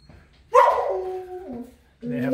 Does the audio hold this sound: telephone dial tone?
no